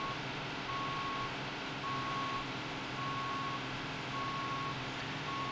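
A fire truck reversing in Emergency Call 112, a firefighting simulation game: evenly spaced reversing beeps repeating over a steady engine rumble, moderately loud with no talk.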